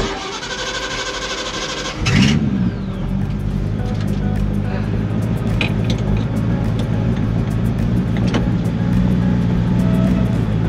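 Ford GT40 race car on road test at Clark Speedway, a loud engine rumble that surges sharply after a moment and then holds a steady drone.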